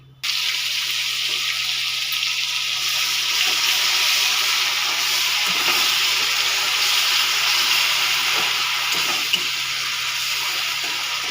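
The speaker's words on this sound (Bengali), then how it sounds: "এবার দিয়ে দেবো পেঁয়াজ, আদা, রসুনের পেস্ট।" Onion, ginger and garlic paste hits a hot pan for chicken bharta, starting abruptly and then giving a steady, even hiss of frying that holds for several seconds with only faint stirring clicks.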